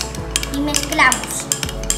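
Slime ingredients mixed with drops of tempera paint are stirred in a container, giving a busy scraping and clinking of a utensil against the vessel over about two seconds, close and fairly loud.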